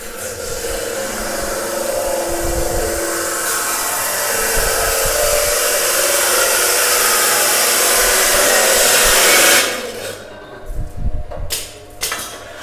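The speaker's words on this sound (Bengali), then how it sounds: "পিছনে এই যে দেখেন আমাদের আরও মেশিনের কাজ চলে পিছনে" Machinery in a workshop where rice and corn threshing machines are built gives a loud continuous whirring drone, then stops abruptly near the end, leaving scattered knocks and bangs.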